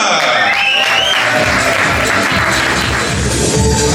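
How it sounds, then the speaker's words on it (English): Audience applause at a boxing weigh-in as the CEO of Aquila Boxing Promotions is introduced, a dense steady clapping that carries loudly through the full stretch with a voice over it at the start. "Please give a big round of applause to Geraldine Lerena."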